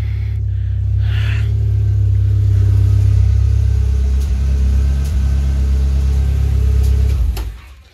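Vauxhall Corsa B engine idling steadily and close, a low mid-frequency drone with a faint repetitive ticking from worn HT leads, dropping away near the end.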